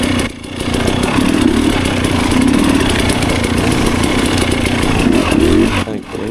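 Dirt bike riding down a rocky trail, its engine droning loud and close almost nonstop, with a brief dip in revs near the start and another drop near the end.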